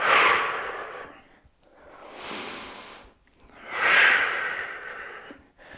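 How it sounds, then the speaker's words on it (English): Heavy exhaled breaths come in two strong, rhythmic bursts with quieter breathing between them, close and loud, from a person doing dumbbell curls and presses in a home workout. No words are spoken. "breathing out on the way up with the press."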